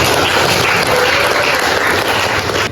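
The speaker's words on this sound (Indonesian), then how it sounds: "Oke, terima kasih, tepuk tangan." A classroom audience applauds after a group presentation: continuous, dense clapping fills the room at a loud, steady level for under three seconds.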